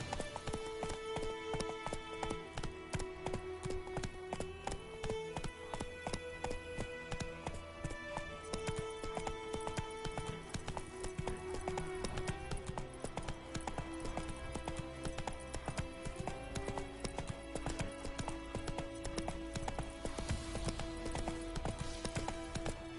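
Steady, rhythmic clip-clop of horse hooves runs throughout, mixed with a constant bed of game music and ambient sound.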